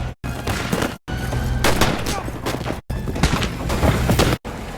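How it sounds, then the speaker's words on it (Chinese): Bursts of machine gun fire rattle through a frontier shootout, loud and dense, split by brief silent cuts between several rapid volleys. "他手持一挺机枪，呐喊着雅各布·达顿的名字，朝他们开枪射击"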